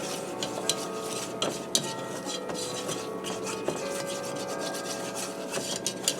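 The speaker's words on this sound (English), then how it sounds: "I'm going to allow this to cook here just for a minute to get the flour taste out of our roux" A flour roux, the thickener for a cheese sauce, cooks in a pan under steady, close scraping strokes of stirring, with a faint sizzle underneath and no talking.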